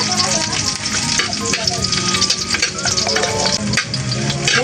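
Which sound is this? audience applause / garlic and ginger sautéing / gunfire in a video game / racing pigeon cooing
garlic and ginger sautéing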